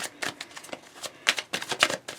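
A loud-sounding tarot deck is shuffled close up in a quick series of crisp, clattering riffles and taps, heard alone with no talk.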